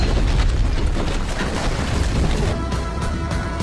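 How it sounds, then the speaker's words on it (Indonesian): A bomb thrown at a house door explodes in a dense, loud roar of blast noise that fills the whole stretch without a break, with no voices present. "menyalakan bom yang dilempar di depan pintu hingga meledak"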